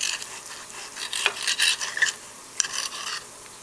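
A knife slices through a browned strip steak, halving it with a few short, rasping strokes against a board, close and crisp over a faint background hiss.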